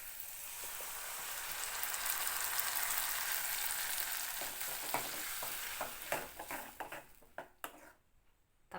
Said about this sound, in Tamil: இப்போ அரைச்சி வச்ச தக்காளியை ஊற்றிக்கலாம்.